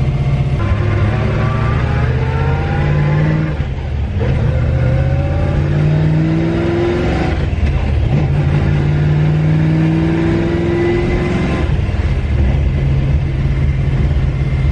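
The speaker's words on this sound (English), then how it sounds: "It sounds like they're straight cut gears." A modern engine fitted to a 1964 Ford Galaxie revs loudly, its straight-cut transmission gears whining in rising and falling tones that climb repeatedly with each pull, close and continuous throughout.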